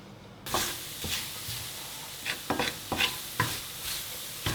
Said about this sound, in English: Just going to give it about a minute of stirring, and I can see it's starting to slightly brown and stick to the pan now.